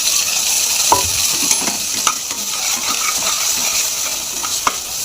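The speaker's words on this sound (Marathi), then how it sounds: "आणि हा आपला खोबरं आणि कांद्याचं हे आहे ना, आपल्याला याच्यामध्ये टाकून भाजून द्यायचं आहे" Coconut and onion masala roasts in a pan with coriander powder and turmeric for chickpea bhaji. A loud, continuous frying hiss runs under repeated scraping strokes of a spatula.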